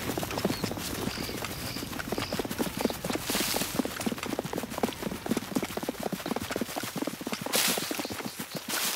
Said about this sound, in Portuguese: Com o Bill, isso funcionou tão bem que ele acabou ficando com raiva do John e decidiu fugir